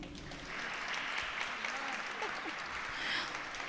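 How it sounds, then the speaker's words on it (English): An audience at a city town hall in Highland Park claps for the recreation department director, a fairly faint, steady round of applause with some voices mixed in beneath it. "please give a round of applause for our rec department director, Sue Narander."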